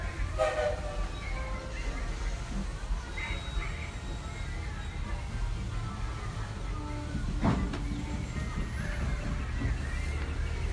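A Magic Kingdom theme park train rolls steadily along with a continuous low rumble and rattling, a brief whistle-like tone rising midway, constant noise throughout.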